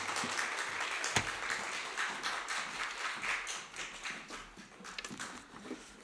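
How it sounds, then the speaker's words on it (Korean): A church congregation applauds to welcome a visiting pastor to the pulpit, scattered uneven claps and taps rising and falling for about six seconds, with a few sharper near hits and some shuffling. "목사님 나오실 때 큰 환영의 박수 부탁드립니다."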